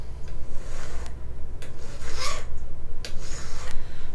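A small metal file rasps at a wire gripped in a jewelry ring clamp, giving several short scraping strokes over a steady low background hum, close and moderately loud.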